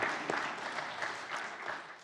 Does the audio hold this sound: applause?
yes